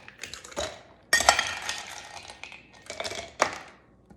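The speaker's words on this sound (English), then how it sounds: "Chasing my ice cubes around here." Ice cubes clink and rattle against the glass as iced tea is stirred, in irregular bright clusters of taps with brief pauses between them and no voices.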